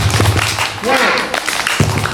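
A group of schoolchildren at an Islamic elementary school claps out the 'tepuk semangat' rhythmic pattern in several bursts of hand claps, with talk and chatter mixed in around the claps.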